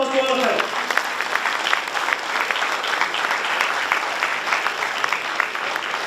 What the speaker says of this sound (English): Give a huge applause to all of them.